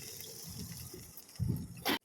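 Water is poured into a cooking pan as a dish with tomato, chili and soy sauces is made, a short splashing gush, close, ending in a louder burst.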